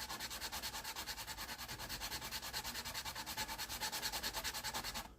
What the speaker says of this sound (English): why do you count the strokes when you're sanding?